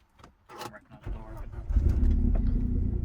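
A high-mileage, neglected Vauxhall Astra VXR Nurburg fires up: a few clicks and a brief crank lead into the engine catching, then a steady, close idle rumble settling in and continuing to the end.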